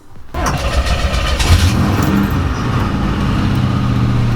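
A 1955 Pontiac car starts off and drives slowly, its engine a steady, close, loud rumble with a brief rise in revs near the start, then a sustained low drone.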